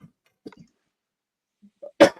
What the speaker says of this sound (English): Listen to the cough coming at him.